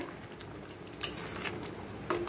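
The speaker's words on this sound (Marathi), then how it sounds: "तर अंडी जरा हलवून घेऊया" Masala eggs stirred in a hot pan, a soft steady sizzle with occasional scraping clicks of the spatula against the pan, quiet and close.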